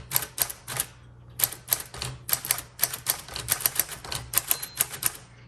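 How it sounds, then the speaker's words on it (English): Close, crisp keystrokes rattle in quick bursts on a 1946 Sterling Speedline manual typewriter, pausing briefly before more clacking, with a small margin bell ringing near the end. "Okay, so the bell just went off, so this should stop on me here."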